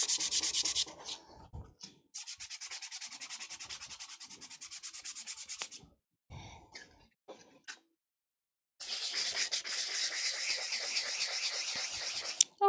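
A cosplay prop is sanded by hand with 80-grit sandpaper, producing close, raspy back-and-forth scratching strokes in several long bursts separated by short pauses and a few quiet knocks.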